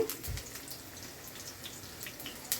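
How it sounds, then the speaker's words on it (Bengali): Tap water trickling and dripping into a sink while a bottle gourd is rinsed, a faint, patchy splashing with small drips scattered across the moment, no voices present. "লাউটাকে এখন ধুয়ে নিচ্ছি"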